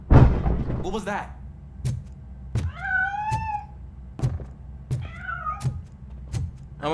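A cat meows twice, clear and close, in the RoboCop: Rogue City video game, between sharp thuds and knocks over a low background hum.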